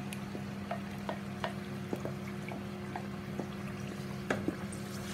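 Goat meat stew with red peppers and Scotch bonnet being stirred in a pot, a low simmering hum under scattered soft clicks and taps of the spoon against the pot.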